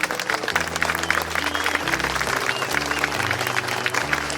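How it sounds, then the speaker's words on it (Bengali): An audience at a live cake auction during a cake carnival claps together, a dense, steady burst of applause lasting several seconds over a sustained musical drone. "4000 এটা ধরে হাততালি হয়ে যাক"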